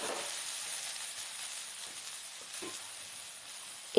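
Taro leaves frying with tomato and green chilli in a pan over a low gas flame give a steady, soft sizzle and hiss throughout, with a few faint stirring knocks and no voices.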